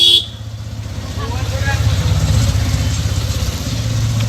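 Motorcycle engine runs with a steady low, pulsing putter, close and fairly loud after a brief sharp noise at the start, with a voice faintly present.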